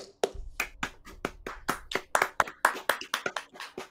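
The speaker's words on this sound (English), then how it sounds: "this applause is for you" A small handful of people clapping for viewers at the end of a game show episode, sharp separate claps in an uneven rhythm, close and fairly quiet with no crowd swell.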